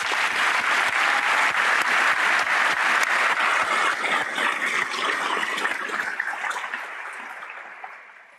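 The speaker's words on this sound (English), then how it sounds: "And that, again, deserves a huge round of applause." Graduation ceremony audience applauding in a large hall, dense sustained clapping that holds steady and then tapers off toward the end, with no voices over it.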